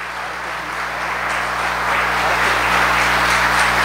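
A church congregation applauding, a broad wash of clapping that swells louder toward the end over a steady low hum.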